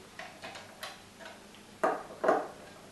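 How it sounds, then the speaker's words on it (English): Small screw on a quadcopter prop guard being backed off with a driver: a few faint, dry ticks spaced apart, then two sharper, louder clicks close by, no talk. "back it off, hear the click, screw it in."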